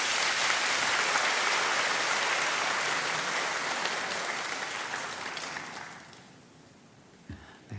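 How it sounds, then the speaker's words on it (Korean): A church congregation at a Sunday service claps in a dense, loud burst of welcome for a visiting preacher, then the applause fades away toward the end. "우리 사랑의 마음을 가득 담아 우리 환영의 박수로 모시겠습니다"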